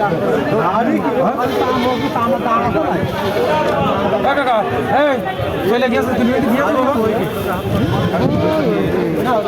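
Goats bleat repeatedly amid a crowded livestock market, their wavering calls overlapping with loud, constant chatter of buyers and sellers haggling nearby.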